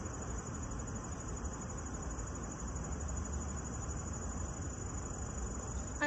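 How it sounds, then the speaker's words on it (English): Cicada-like insects drone continuously in a high, steady shrill buzz in daytime woods over a soft outdoor background, with no change in rhythm. "Maybe it's some type of cicada"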